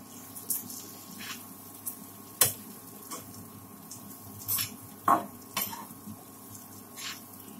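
Neem flower sabzi is stirred in a pan: scattered spoon scrapes and clinks against the metal over a faint background sizzle, quiet and intermittent, with no talking.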